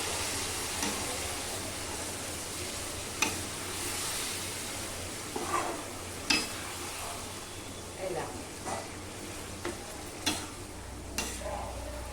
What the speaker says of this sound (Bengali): এবার কিমাটা দিয়ে ভালো করে কষাবো